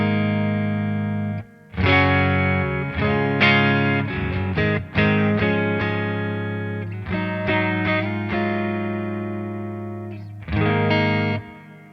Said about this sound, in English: So this is the D20 on a clean with the neck pickup.